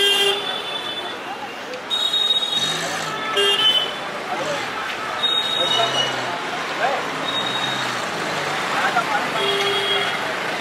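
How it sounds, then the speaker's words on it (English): Car horns honking in busy street traffic in India's largest slum, short toots repeating over a constant loud roar of engines and road noise, with voices mixed in. "the honks are a sign of love"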